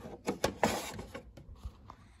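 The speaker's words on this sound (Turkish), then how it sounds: "Siyah kartuşu ve renkli kartuş kendi yuvalarına oturttuktan sonra kapağı da kapatıyorum." The lid of an HP 4110e inkjet printer is shut after the black and colour cartridges are seated, giving a handful of close plastic clicks and knocks followed by a final soft thud.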